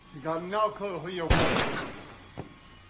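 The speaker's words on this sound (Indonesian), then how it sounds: "sang pelaku malah menyerang Tom namun berhasil ditembak oleh Emerick" A single sharp gunshot in a film cracks out loud and close after a stretch of a voice, followed by a decaying burst and a small knock.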